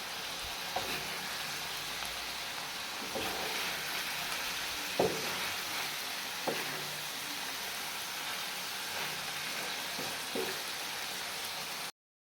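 Spiced Peshawari kaleji (liver) frying in oil on a tawa, a steady close crackling sizzle with occasional sharper pops and a few stirring scrapes, no voices.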